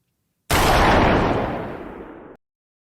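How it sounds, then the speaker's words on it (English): A single gunshot from a Breaking Bad scene, a sudden loud blast that decays over about two seconds and is heard on its own. "That gunshot didn't just kill Gale."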